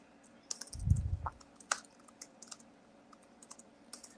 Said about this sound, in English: I'll type them in the chat box